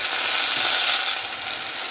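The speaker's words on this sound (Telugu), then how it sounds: "సో అలా పోపు వేగిన తర్వాత మనం తొక్కు తీసి, అంటే పొట్టు తీసి తరిగి ఉంచుకున్న బీరకాయ ముక్కలు వేసేసుకుంటామండి." Chopped, peeled ridge gourd pieces hit a pan of hot tempering with dry red chillies, mustard seeds and curry leaves, giving a loud, steady hiss and crackle of frying throughout, with no talk.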